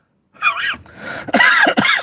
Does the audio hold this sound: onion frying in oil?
no